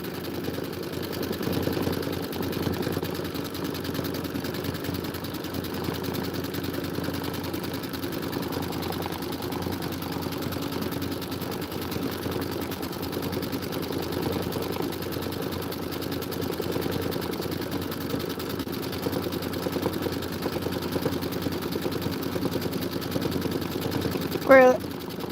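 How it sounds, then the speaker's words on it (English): A sewing machine runs steadily while background quilting a Kimberbell Sweetheart Street bench pillow, a continuous, fairly quiet mechanical hum and rapid needle chatter that barely changes from start to finish. "We're a little more than halfway through the background quilting."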